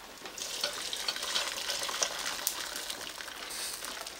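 Ground beef frying in a pan from an Ozark Trail cookware set, a steady, moderately loud sizzle with scattered crackles and scraping stirs, heard close with no voices.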